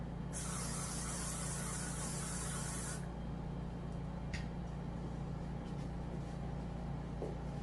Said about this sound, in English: really get that spray in there.